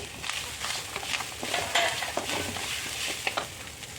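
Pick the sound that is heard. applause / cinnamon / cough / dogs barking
cinnamon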